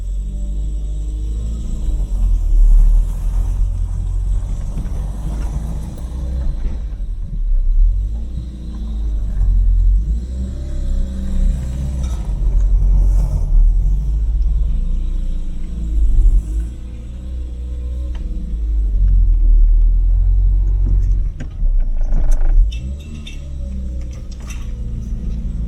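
A Renault 9 with a worn wheel bearing drives around the block, a loud low engine rumble rising and falling with the revs as the car accelerates and slows, heard from inside at close range.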